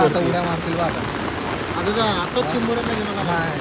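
Heavy rain falls hard on a surface during an evening crab-catching outing in the Konkan, a loud, dense steady wash that runs under someone talking close by.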